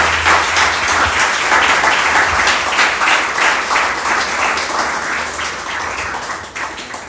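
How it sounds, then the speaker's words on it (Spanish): A church congregation applauds steadily throughout, dense, even clapping from a large crowd that holds strong and then thins slightly toward the end. "Ahora aplauda al Señor de la inefable gracia."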